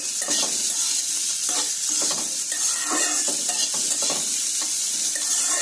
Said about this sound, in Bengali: তরকারিটা আমি দেখো হলুদ লবণ দিয়ে দিচ্ছি দিয়ে একটু ভালো করে ভাজা ভাজা করে নেব